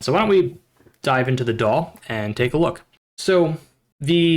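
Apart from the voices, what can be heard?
No everyday noise stands out behind the speech.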